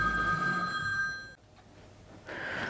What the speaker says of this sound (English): So that's the phone.